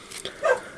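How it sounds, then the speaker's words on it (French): Dogs bark outdoors, heard as a couple of quick, muffled yips and barks at moderate distance within less than a second, with no talk over them. "Apparemment les chiens aboient"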